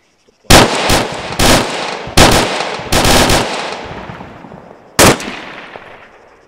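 Automatic rifle and machine-gun fire in an Arma 3 team-versus-team hostage rescue mission: loud, close bursts of rapid shots separated by short pauses, with one last burst after a longer gap.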